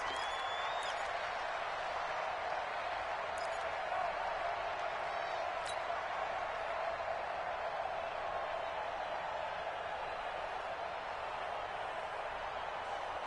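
A dense, steady roar of a large stadium crowd in the football video game Madden holds constant throughout, broad and washed out, with a couple of faint whistle-like tones near the start.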